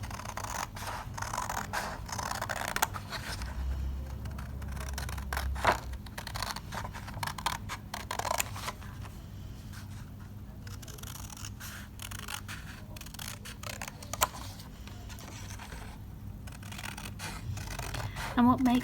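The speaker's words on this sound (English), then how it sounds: "I'm going to grab my scissors" Scissors cut out a paper template, giving soft close snips and rustling paper scrapes in an uneven rhythm, with brief talk in the background at times.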